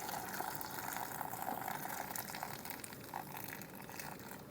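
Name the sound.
water being poured into glass jars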